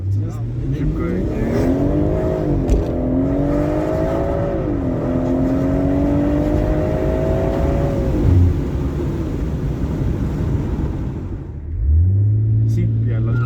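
BMW M140i six-cylinder with a performance exhaust, engine revving and rumbling loudly in rising and falling sweeps, then settling to a deep idle, with an occasional voice in the background.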